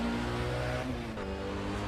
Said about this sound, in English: I can hear it back there. The big V8.